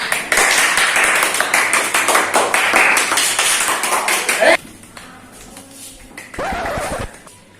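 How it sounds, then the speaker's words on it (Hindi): Studio audience on a Hindi quiz-show spoof modeled on Kaun Banega Crorepati, clapping in a dense, steady burst for about four and a half seconds, then stopping abruptly, with a brief second burst near the end. "बिल्कुल सही जवाब, जोरदार तालियां के लिए"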